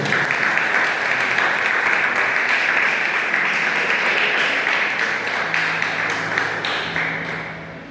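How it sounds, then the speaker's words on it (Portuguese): A church congregation claps in praise during a worship service, producing sustained dense applause with a few sharper individual claps, steady and fairly loud, then fading slightly toward the end. "E as palmas que louvem ao Senhor."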